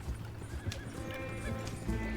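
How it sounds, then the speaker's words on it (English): Horses' hooves clip-clopping in the Red Dead Redemption 2 video game, a short run of irregular near hoof knocks over a low rumble, with a brief whinny mixed in. "Go easy on them horses"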